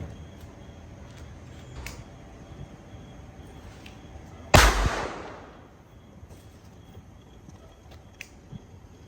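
One sudden, loud firecracker bang during Eid celebrations, with a short crackling tail that fades over a second, the rest of the scene quiet.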